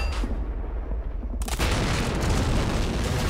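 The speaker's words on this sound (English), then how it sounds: "Yeah, I got some mortar there." A mortar in the Men of War Online battle game gives a deep boom, and a loud, sustained rumble of blast and battle noise follows it.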